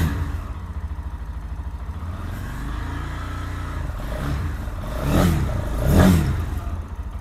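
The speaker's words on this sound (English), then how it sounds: "So this is going to be the stock exhaust sound." A Lifan KPM 200 motorcycle on its stock exhaust idles with a steady low chug, then is revved twice in quick swells near the end before settling back to idle, close and alone.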